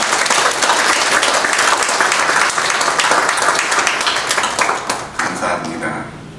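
Congregation applause at a regional presbytery (노회) meeting of a church, a sustained dense clapping from a large crowd filling the room, loud and steady before thinning out near the end.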